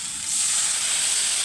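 Water splashed into a pan of frying cauliflower curry, setting off a sudden bright hiss and sizzle that swells after a brief quiet moment and stays loud and steady, close up.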